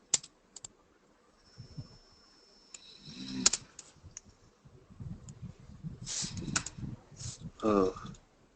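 Someone types on a computer keyboard, making sparse, soft clicks and short bursts of keystrokes at close range. The typing is intermittent, with people talking nearby.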